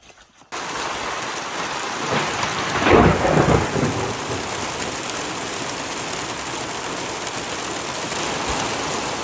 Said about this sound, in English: It's been raining and carrying on